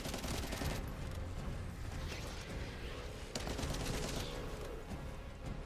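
Sustained video game gunfire, dense bursts of shots with sharp cracks, a heavy blast near the middle that could be a grenade, loud and continuous with no talk over it.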